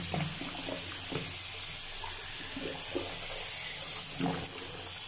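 Steady hiss of tap water running into a sink, continuous and close, with faint clinks and handling sounds underneath.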